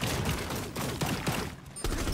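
Dense, continuous gunfire in the tactical shooter Rainbow Six Extraction, with rapid overlapping shots pounding loudly throughout and a brief dip before the barrage resumes.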